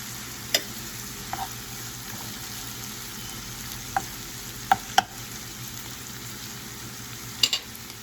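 Garlic frying in a pan with a steady close sizzle, broken by a few sharp clinks and scrapes of stirring spread through the clip, no voices.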